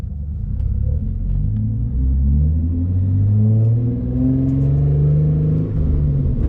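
A manual car pulling away in first gear, its engine giving a loud close rumbling rev that climbs in pitch, dips and rises again as the clutch engages.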